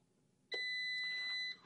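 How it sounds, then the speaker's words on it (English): A darkroom photo enlarger timer gives a single steady electronic beep for about a second as it finishes, clear and close, against a quiet background. "That wonderful beep you hear is a signal to let you know that the timer is finished."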